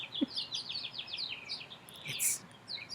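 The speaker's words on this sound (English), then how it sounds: "The windstorm has passed. We have beautiful birds." Birds chirp and trill outdoors after a windstorm has passed, with quick repeated tweeting phrases at moderate distance over a quiet background, plus a brief low knock.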